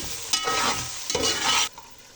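Tomatoes, green chillies and ginger garlic paste are fried in a pan for a roasted cauliflower chicken curry, with two bursts of loud sizzling and stirring, then a quieter hiss, close and without speech.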